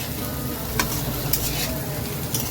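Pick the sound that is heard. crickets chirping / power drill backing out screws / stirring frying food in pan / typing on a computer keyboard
stirring frying food in pan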